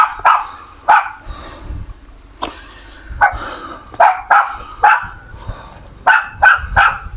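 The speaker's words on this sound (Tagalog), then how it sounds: "Galit yung aso." An angry dog barks repeatedly at midday near a cave site in Antipolo City, sharp close barks coming in irregular bursts of two or three with short pauses between, alone without talk.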